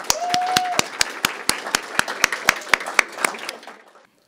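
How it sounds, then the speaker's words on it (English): Standing graduates at a June 2021 radiologic technology graduation clap for their families in an evenly spaced, rhythmic beat that slows and fades out near the end, with a brief tone under the first second. "Graduates, please stand and clap for your family."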